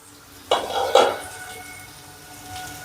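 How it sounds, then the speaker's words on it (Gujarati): A metal lid comes off a pan of Gujarati radish curry cooking in oil, giving two close clattering clinks in quick succession, followed by a soft, fading rattle and quiet sizzle. "હવે આપણે ઢક્કણ લઈને જોઈશું"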